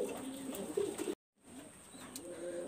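Pigeon cooing close by, a white golden pigeon among birds for sale, with low soft coos running through the clip around a brief silent gap.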